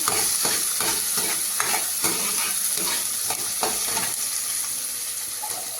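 Onions frying to brown in a pan for a pumpkin dish, with a steady bright sizzle and repeated stirring scrapes, close up with no talking.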